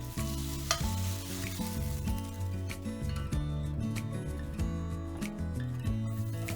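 Beef frying and being stirred in a wok, a continuous close sizzle with repeated scraping and tossing clatters as the meat is turned, no talk.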